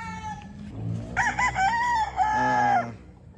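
Claret gamefowl rooster crowing once, loud and close, a full drawn-out cock-a-doodle-doo preceded by a few soft clucks.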